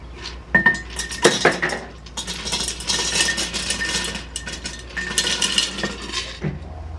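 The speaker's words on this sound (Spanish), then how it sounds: "Lo voy a vaciar el hielo a la jarra para ponerlo aquí." Crushed ice emptied from a blender into a pitcher, giving bursts of clinking and rattling against glass, with scattered sharp knocks and a low motor-like hum underneath.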